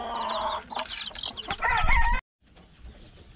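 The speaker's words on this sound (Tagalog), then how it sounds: "Meron pa ditong sisiw na mga nakapisa din." Chickens cluck and chatter with young chicks in a roofed coop, busy overlapping calls close by, then a sudden brief silence followed by quieter scattered clucks.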